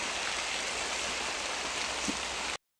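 Steady rain hisses evenly throughout, a dense wash of drops on a surface with no voices, cutting off abruptly near the end.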